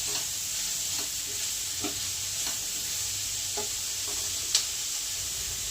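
Capsicum fries in a pan for atta Maggi, a steady hissing sizzle with a few soft stirring knocks and one sharper tap near the end, close and unaccompanied by speech.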